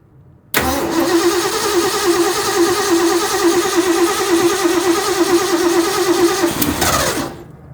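A 1966 Mustang engine cranks loud and steady for about six seconds, its starter churning with a rapid, even rhythm right up close before cutting off abruptly; no voices over it.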